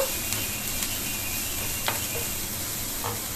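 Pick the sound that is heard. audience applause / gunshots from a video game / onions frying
onions frying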